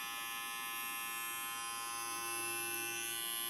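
A budget fading clipper bought from AliExpress hums steadily up close, a constant electric buzz with no pauses and no speech.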